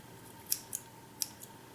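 Scissors snip through hair while trimming side-swept bangs, three or four crisp close cuts in quick succession over a faint room hush.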